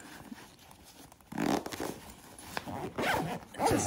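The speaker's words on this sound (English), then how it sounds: "it just zips right up." A zipper runs along a SwissGear smart backpack as it is closed, a close, scratchy rasp in a few quick pulls ending with a longer final stroke.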